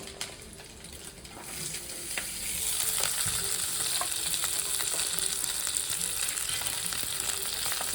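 Mixed vegetables for fried rice fry in a hot pan with a steady, close sizzle and occasional stirring scrapes, the crackle growing fuller partway through and holding throughout.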